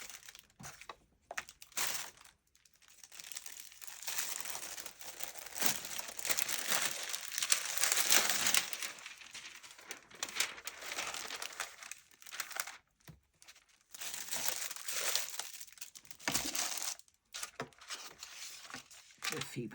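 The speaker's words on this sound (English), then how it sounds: "Let's just get a little bit of greaseproof paper." Greaseproof paper crinkles and crumples in bursts during a junk-journal altered-book craft session, close and fairly loud with short pauses between handlings.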